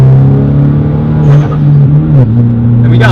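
A 2013 Hyundai Genesis Coupe 2.0T turbo accelerates in second gear from about 3,000 RPM, a loud, close engine drone that rises gradually with a brief dip mid-pull.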